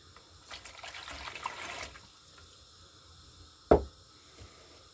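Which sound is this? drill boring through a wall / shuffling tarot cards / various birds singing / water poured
water poured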